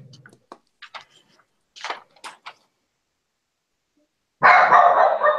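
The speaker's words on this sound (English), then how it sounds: "Sounds like there's an angry dog. He's seeing his reflection in the fireplace." An angry dog barks at its own reflection in a fireplace indoors, several short sharp barks spaced irregularly, then a louder rough burst of noise at the end.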